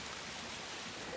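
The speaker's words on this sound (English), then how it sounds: "Where the water tumbles down in several places, you get these subtly different sounds" Water tumbles down a naturalistic garden waterfall at the Chelsea Flower Show, a soft, steady, faint splashing rush that continues unbroken with no voices.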